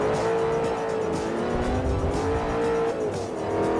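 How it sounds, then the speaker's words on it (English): An Audi R8 lapping the Top Gear test track in Forza Motorsport 4, its engine droning loudly and steadily as the pitch rises and dips through gear changes, with a tire squeal. "This is the Forza 4 R8, and we finish"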